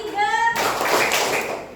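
A group of children in a classroom clap in unison on a teacher's count, a dense burst of claps that starts abruptly partway through and carries on steadily, with a sung or chanted voice before it.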